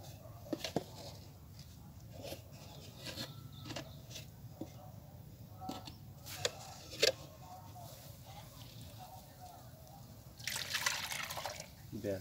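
Water sloshes and drips in a bucket holding about ten litres as it is stirred and mixed, with a louder splashing burst near the end, under quiet background noise.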